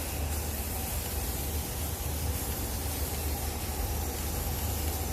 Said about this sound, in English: So I'm gonna spray all of them into gold.